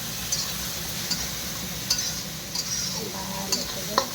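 Turmeric, chili powder and spices fry in a pan for soyabean curry, giving a steady sizzle punctuated by periodic sharp clinks and scrapes of a stirring utensil against the pan.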